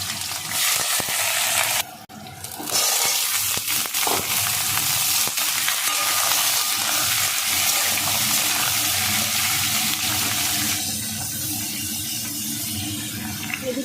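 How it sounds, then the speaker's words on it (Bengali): Diced potatoes fry in hot oil with five-spice seeds and dried red chillies, a loud, continuous close sizzle with brief stirring, no voices heard. "ফোড়ন দিয়ে আলুটা একটু ভেজে নিয়ে তারপরে দেবো বেগুন"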